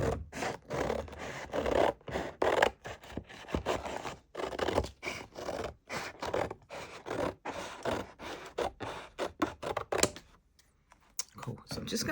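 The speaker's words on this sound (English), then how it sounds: "So I just trim off the edges, get rid of those so that we know what we're dealing with" Scissors trimming the edges off a collage junk journal cover, a run of close, dense cutting and scraping strokes that ends in a short quiet gap, then a few more snips.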